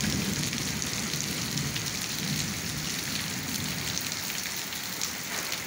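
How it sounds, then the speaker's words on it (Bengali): Heavy rain pours down in Dhaka as a dense, constant hiss of drops on surfaces, with low thunder rumbling faintly underneath throughout. "বৃষ্টির আওয়াজ এবং আকাশে যে বিদ্যুৎ চমকাইতেছে তার শব্দ কিন্তু আপনারা অবশ্যই কিন্তু শুনতে পাচ্ছেন"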